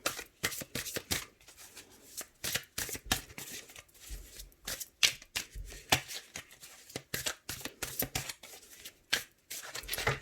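Tarot cards are shuffled and cut by hand in quick, close papery riffles and slaps that come in irregular bursts for about ten seconds, with no talking.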